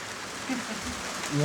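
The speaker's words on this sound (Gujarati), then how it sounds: "વરસાદ પાછો આવો ગયો" Steady rain falls throughout, a dense, even hiss with voices talking over it near the end.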